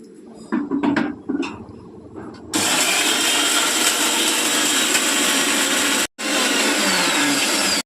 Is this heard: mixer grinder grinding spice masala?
yes